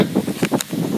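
Wind buffets a microphone outdoors in short, uneven gusts of low rumbling noise, close and fairly loud, with no speech.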